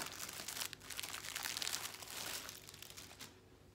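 A packaged item from a Wootbox subscription box being unwrapped, close crinkling and crumpling of plastic wrap, dense and continuous, then easing off toward the end.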